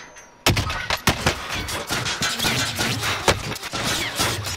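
Gunfire in the video game Call of Duty: Modern Warfare, a sudden loud burst of rapid shots followed by scattered cracks and continued firing, close and dense, without speech.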